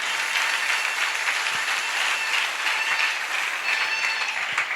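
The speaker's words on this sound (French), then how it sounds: "donnez une très forte acclamation pour le Seigneur Jésus-Christ" A church congregation gives loud, sustained applause during a worship service, continuous dense clapping and cheering at steady volume throughout.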